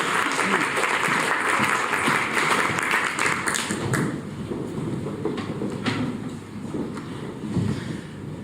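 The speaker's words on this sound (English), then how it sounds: "please give her a warm round of applause" An audience at an LSE anniversary celebration gives a warm round of applause, loud dense clapping that thins into scattered claps and shuffling toward the end.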